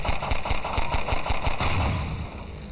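Repeated gunshots ring out in the video game Half-Life 2, a quick run of sharp, evenly spaced loud cracks over a tonal background hum, trailing off toward the end.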